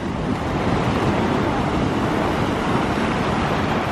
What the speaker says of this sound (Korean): 저 파도 치는 것 봐.